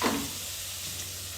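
Onion and green chillies sautéing in a pan make a continuous close sizzle and crackle, with a slightly louder stir at the start, and no talking.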